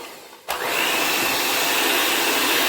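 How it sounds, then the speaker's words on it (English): An electric hand beater creams butter and sugar in a bowl, switching on abruptly after a quiet moment and then whirring loudly and steadily with a high motor whine until it cuts off. "I'm using my hand beater today, so it's going to make a little bit of noise"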